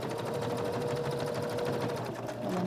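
A home sewing machine stitches a fabric placemat in a steady, fast mechanical whir with rapid needle chatter, close and continuous with no talk.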